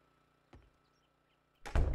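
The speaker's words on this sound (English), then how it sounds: "Close the door." A door closing in the zombie survival game 7 Days To Die: a faint knock, then a heavier thudding shut near the end, with near silence around them.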